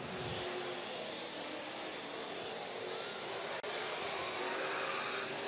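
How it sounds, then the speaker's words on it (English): A drift car on a race track runs steadily through a long drift, with a continuous engine roar and tire noise heard from a distance, broken by one brief dropout. "You can hear him just clutch kicking the car, trying to get the last few laps out of those rear tires."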